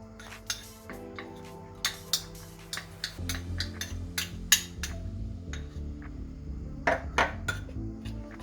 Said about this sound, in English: We give a good mix.